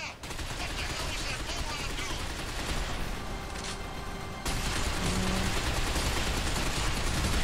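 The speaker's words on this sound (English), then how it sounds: "He's gonna use a gun at you." Dense enemy gunfire in the futuristic shooter Binary Domain: continuous rattling bursts and shots under a steady game soundscape, loud and close for the whole stretch, with a louder surge partway through.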